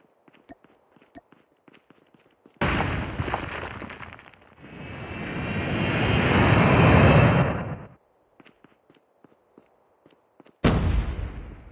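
An aircraft in the shooter game COD Mobile rushes past as a loud broadband whoosh that swells and cuts off abruptly, then returns briefly near the end, between faint clicks and taps.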